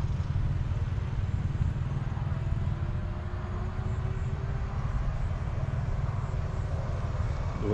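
A large airliner at Suvarnabhumi Airport prepares for takeoff, heard as a loud continuous low engine rumble with a faint rising whine, steady throughout.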